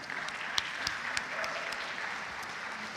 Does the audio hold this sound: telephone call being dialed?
no